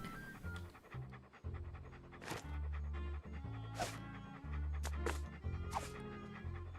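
Dog panting in the Monkey Island 2 video game, a steady rhythmic huffing that runs throughout alongside game music, with a few short sharp accents breaking through.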